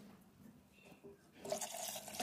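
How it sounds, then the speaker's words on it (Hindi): Water poured into a pot of meat curry (aloo gosht shorba), a broad splashing pour that swells in the second half of the short clip, close and moderately loud, with no talking. "थोड़ा सा मैंने इसके अंदर पानी डालते जाना है।"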